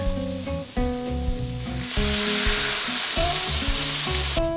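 Chicken and vegetables browning in a soup pot hiss with a steady loud sizzle as a cup of stock pours in, crackling and bubbling continuously with faint stirring, no voices.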